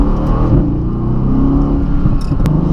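A 2018 Mercedes-AMG GT Roadster pulls hard in Sport Plus manual mode on a back road, its engine a loud, close, steady roar building under acceleration.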